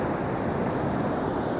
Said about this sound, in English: The swells are roaring.